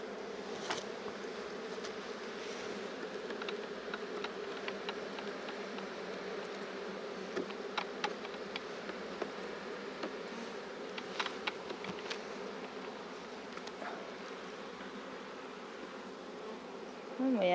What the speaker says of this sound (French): il y a un peu plus d'abeilles. Même déjà pour une ruchette, c'est pas suffisant en quantité d'abeilles.